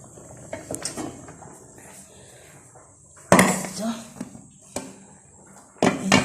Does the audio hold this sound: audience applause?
no